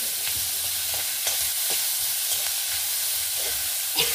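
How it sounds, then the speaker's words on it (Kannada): Green chillies and onion frying in a pan for a tomato gravy: a steady, close sizzle and hiss, with light scraping taps of stirring throughout. "ಹಸಿಮೆಣಸು, ಈರುಳ್ಳಿ, ಒಂದು ಸ್ವಲ್ಪ ಫ್ರೈ ಮಾಡ್ಕೊಂಬ"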